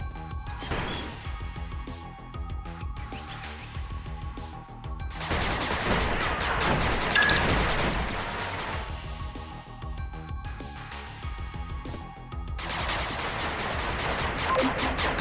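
Rapid machine gun bursts hammer a turret in the 8-Bit Armies strategy game, loud dense volleys that swell and fade in repeated waves with impacts mixed in and no talking.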